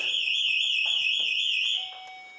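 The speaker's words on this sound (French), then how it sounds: "Donc là, je vais activer l'alarme." A piercing, warbling electronic alarm blares steadily at close range, then cuts off abruptly near the end, leaving a faint tone.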